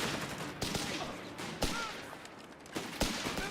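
Scattered gunshots and bursts crack through a busy video game battle, several sharp reports standing out against a constant din of distant fire, with faint voices under the noise.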